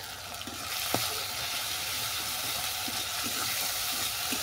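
Chopped tomatoes fry in hot spiced oil with a steady, close sizzle and hiss, punctuated by an occasional stirring knock near the start.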